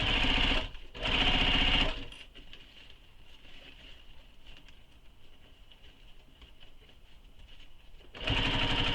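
Sewing machine stitching across a fabric quiver sling along the seam allowance, running in two loud bursts near the start, a quieter stretch of faint handling noise between them, then a third burst at the end.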